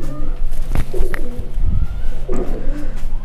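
Pigeons at a pigeon farm coo in low, throaty bursts, several birds close by, with soft rustling and faint background noise between calls.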